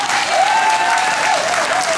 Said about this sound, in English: So big clap for Alan.